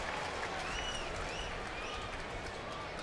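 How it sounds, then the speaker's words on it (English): A baseball stadium crowd at a Mets vs. Cubs game reacts to an umpire's call with a continuous dense roar and applause, with some booing-like swells. "The crowd did not like the call"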